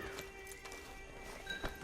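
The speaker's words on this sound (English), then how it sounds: "Get on the horse there." Horse in the video game Red Dead Redemption 2 Online, with soft hoof clip-clops and a faint snort over a steady low background hum, quiet and somewhat distant.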